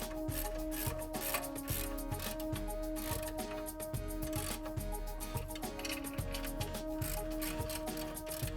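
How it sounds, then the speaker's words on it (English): A ratchet clicks in rapid, steady strokes while tightening the two large bolts that hold a Range Rover coil spring assembly to the spindle, close and continuous with no talking. "Install the 2 large bolts that hold the coil assembly to the spindle."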